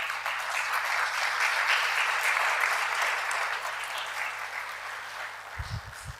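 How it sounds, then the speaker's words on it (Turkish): An audience at an awards ceremony for the International Association of Facilitators applauds group spokespeople and executive board members, a sustained round of clapping that gradually tapers off near the end as a voice begins. "Bütün grup sözcülerimize ve yürütme kurulu üyelerimize de bir alkış istiyorum sizlerden."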